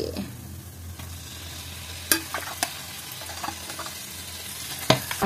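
Marinated lamb (khasi) meat sizzles as it fries in hot oil, a steady crackle broken by sharp clatters of stirring, close and moderately loud with no voices.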